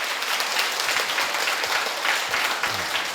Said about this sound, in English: Next, let's applaud and invite Khenpo to bring us a wonderful lecture.